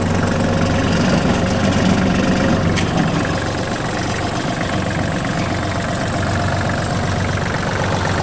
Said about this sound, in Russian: трехцилиндровым дизельным двигателем, 21 лошадиная сила